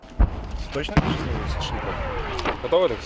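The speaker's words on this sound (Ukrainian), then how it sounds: "Стрілянина тут майже не припиняється." Gunfire and shelling on the front line near Kurdiumivka at dawn, a few sharp loud bangs and thuds in quick succession amid rumbling background noise.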